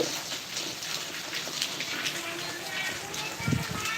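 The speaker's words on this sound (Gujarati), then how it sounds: "અત્યારે વરસાદ ચાલુ છે ઉદયપુર તાલુકામાં" Steady rain patters and hisses throughout in Gujarat, a soft continuous wash of drops at moderate distance, with a faint thump near the end.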